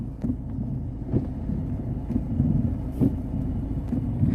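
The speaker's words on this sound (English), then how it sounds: "So if I start the car up" A Mercedes-Benz car engine runs with a low, steady rumble throughout, close and fairly loud, with faint clicks and small pulses over the idle.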